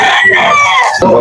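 A Kanawayon-hatch gamecock crows loudly and close by, one drawn-out cock-a-doodle-doo filling the moment.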